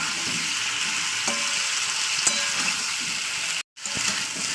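Cauliflower florets fry with ginger-garlic paste in hot oil for a chicken, cauliflower and potato curry: a steady, close sizzle with a few light stirring taps and a brief dropout near the end.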